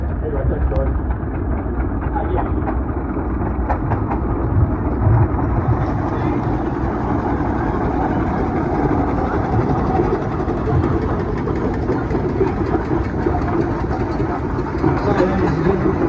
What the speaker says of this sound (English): we're bringing in some vintage steel wheel tractors that generally pre-1930 tractors